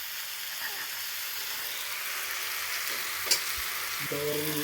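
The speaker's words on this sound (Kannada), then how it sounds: "ಇಲ್ಲಿ ಮಟನ್ ಸಾಂಬಾರ್ಗೆಲ್ಲ ರೆಡಿ ಆಗ್ತಾ ಇದೆ ಗೈಸ್." Mutton sambar cooks in a pan with a steady, close sizzle and hiss while being stirred, broken by one brief sharp clatter of a utensil and a low hum near the end.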